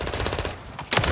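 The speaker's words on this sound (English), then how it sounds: "Why are you shooting me?" Rapid automatic fire from the Call of Duty video game crackles in a quick, close burst, then dips and returns with another short volley.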